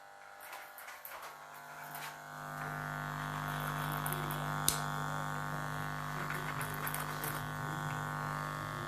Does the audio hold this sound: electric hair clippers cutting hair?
yes